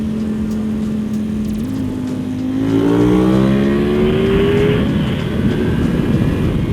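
A Ducati motorcycle with a Termignoni exhaust revs up and accelerates past, its loud exhaust note rising in pitch with a deep, throaty roar close by.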